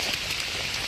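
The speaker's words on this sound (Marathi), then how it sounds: "पाऊस जवळ आल्यामुळे" Steady rain falls outdoors on a forest hillside at Anjaneri, a dense continuous hiss, with no voices.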